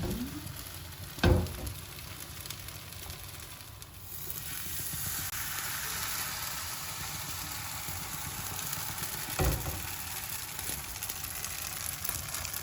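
Pancake batter sizzles and crackles steadily in a hot pan on a gas stove, close up, with a couple of sharp knocks and a low hum underneath.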